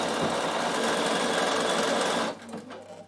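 A sewing machine stitches a fabric travel pouch in one fast, steady continuous run for over two seconds, then stops abruptly, leaving a quiet room.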